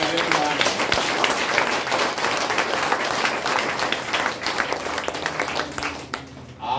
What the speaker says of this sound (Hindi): तालियां बजाइए मेरे लिए